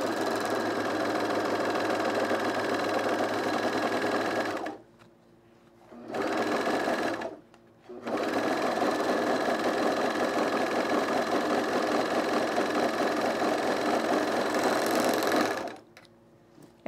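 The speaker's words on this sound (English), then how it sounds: "we're gonna overlock the longer edge of this front pocket facing" An overlocker sewing machine serges the long edge of a cargo-pant front pocket facing with gray thread, running in loud steady bursts with two brief pauses before stopping near the end.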